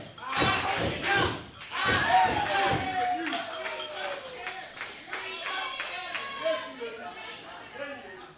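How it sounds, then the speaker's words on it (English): Crowd at a championship wrestling event clapping in unison, rhythmic rounds of hand claps at moderate distance under an announcer's talk, with bits of crowd noise in between. "And only the Big Bad Wolf can get the crowd to clap in unison."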